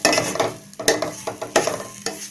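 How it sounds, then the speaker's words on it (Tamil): Cauliflower and capsicum gravy with garam masala and turmeric being sautéed in a pan, a spoon stirring in repeated scraping strokes over steady sizzling, close and fairly loud. "கரம் மசாலா தூள், மஞ்சள் தூள் எல்லாத்தையுமே போட்டு நல்லா வதக்கலாம்."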